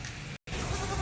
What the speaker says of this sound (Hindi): बादामी कलर की बकरी है